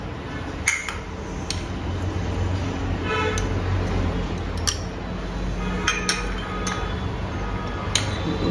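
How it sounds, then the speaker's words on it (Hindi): Boiled vegetables being tipped into a bowl while making a creamy Russian salad: scattered light clinks and soft thuds of pieces landing, irregular and fairly close, over a steady background hum, no talk. "सबसे पहले हम ये जितनी भी वेजिटेबल्स हैं सबको हम एक बाउल में डालते जाएंगे।"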